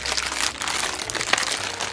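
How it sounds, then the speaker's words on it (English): Crinkly gift packaging around a vinyl zipper pouch rustles continuously for a couple of seconds, close and fairly soft, with crackling bursts and no talking. "excuse the crinkling"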